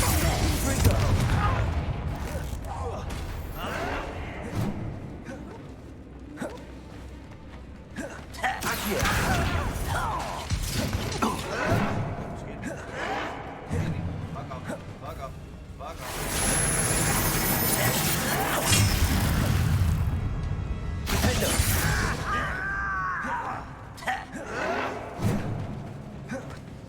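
Confringo and other spell effects in Hogwarts Legacy combat burst out as repeated whooshing blasts, thumps and booms, loud and close, with someone talking excitedly over them.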